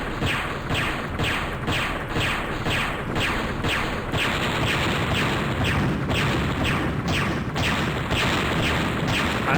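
Enemy missiles launched at the player in the mech combat game Earthsiege, a steady run of regular booming launches and whooshing blasts over a loud, continuous rumble.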